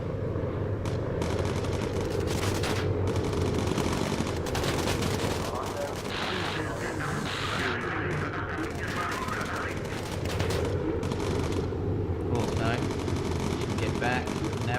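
Bomber gunfire in the video game Bomber Crew: dense, continuous machine-gun bursts and rattling fire with booming impacts, loud and sustained the whole time.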